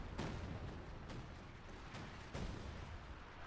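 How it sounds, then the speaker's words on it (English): Calliope rocket barrage in the WWII strategy game Company of Heroes 2, a series of distant booming launches and impacts spaced irregularly over a constant rumbling battle din, fairly faint. "Calliope trying to fire everything they have and kill this thing"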